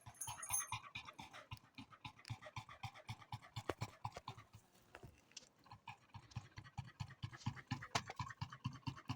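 Pet dog panting rapidly in summer heat outdoors in a garden, a steady rhythmic huffing breath close up, with occasional scratching or shuffling sounds.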